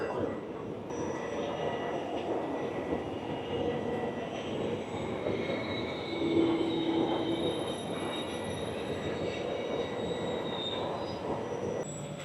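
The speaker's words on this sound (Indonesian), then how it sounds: "Nah ini dia keretanya datang juga." A Railjet train pulling into a station, a steady loud rumble of wheels on rails with a high squeal of braking wheels partway through, continuing as the carriages roll past.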